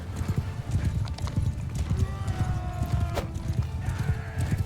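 A horse in Mount & Blade II Bannerlord clops along in a dense, fast hoofbeat rhythm with a brief whinny, loud and close amid battle noise with faint talk.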